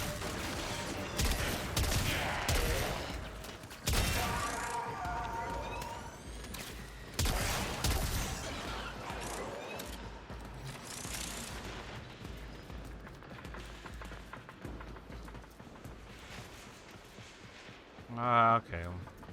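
Gunfire in the Warframe video game during a mission against a heavy robotic unit: dense bursts of rapid weapon fire and impacts, loud and sustained with pauses, layered over game effects and music, with a sharp electronic burst near the end.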